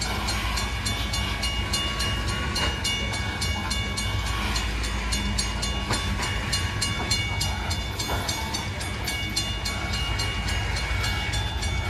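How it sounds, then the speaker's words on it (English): A loaded BNSF coal train rolls past close by while slowing, a dense steady rumble of railcars with rhythmic wheel clatter throughout and no voices. "Here's the train, guys,"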